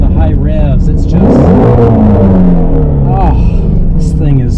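A 2020 Shelby GT350 engine revs high, its deep growl sweeping up and down in pitch and staying loud and close throughout, with someone talking over it.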